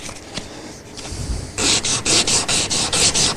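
A Stratocaster guitar's frets are hand sanded with 1000 grit abrasive, starting with light handling and scraping, then a close, rhythmic series of raspy back-and-forth strokes.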